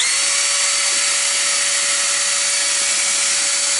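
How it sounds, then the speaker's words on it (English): A power drill bores a hole into the plastic case of a homemade computer build, a steady loud whining drone holding an even pitch throughout with no voices. "So what we're going to do is we're going to drill a hole in here."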